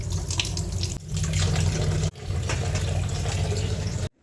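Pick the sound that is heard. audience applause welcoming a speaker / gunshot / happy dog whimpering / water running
water running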